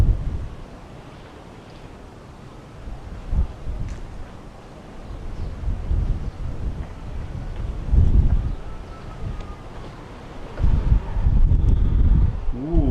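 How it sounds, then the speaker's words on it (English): Gusty wind buffets the microphone outdoors at Fort St Elmo in Valletta, Malta, rumbling low and loud, surging in strong bursts and easing between them. "It's getting very windy,"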